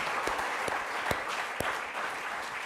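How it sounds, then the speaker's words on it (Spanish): A church congregation claps steadily, a dense wash of applause with a few louder individual claps standing out. "Démosle un aplauso, eso se merece un aplauso."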